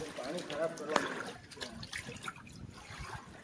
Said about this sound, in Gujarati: હાલે ચાલો આપણે અહીંયા હાથ પગ ધોઈ લે, પછી આપણે જાશું.